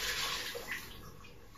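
Water poured into a pot of stewing snails in sauce, a steady splashing gush that eases off over a second and a half, close and fairly quiet with no voices.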